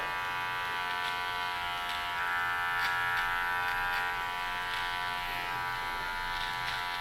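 Electric hair clippers with a 0.5 guard trimming a moustache, a steady close buzz running continuously.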